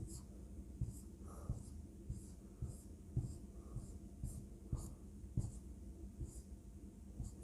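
Marker or chalk strokes scratch across a board while a hexagonal cell diagram is drawn, short soft rhythmic scrapes repeating every second or so in a quiet room.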